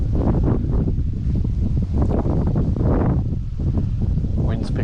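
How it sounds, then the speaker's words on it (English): Strong wind blusters outdoors, a steady rushing roar with heavy buffeting against the microphone that runs through the whole stretch without pause. "Wind's picking up a bit."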